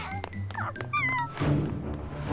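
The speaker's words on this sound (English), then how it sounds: "Hi, little cat. Do you want a treat?" A cartoon cat meows several times in a kitchen scene, short pitched mewing calls in quick succession, close and clear over soft background music and effects.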